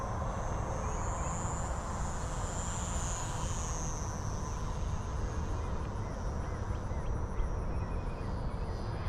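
A mini RC model plane, an FMS PA-18 or T-28, makes a fast pass: a steady, high electric motor whine with a slight pitch sweep over constant outdoor noise.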